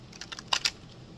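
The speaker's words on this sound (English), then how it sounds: "I like to shuffle my cards" Tarot cards being shuffled by hand, a short run of soft papery riffling flicks close up, several quick taps bunching into two sharper snaps, with no talking.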